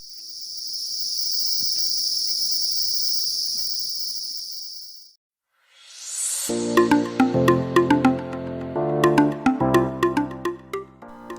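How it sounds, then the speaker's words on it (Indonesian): Male cicadas buzz in a loud, steady high-pitched drone for several seconds on a mountain trail on Gunung Sagara, Garut, then stop; afterward, bright plucked musical notes follow. "Suara senandung yang khas bersautan dilakukan oleh tonggeret jantan dengan tujuan memanggil"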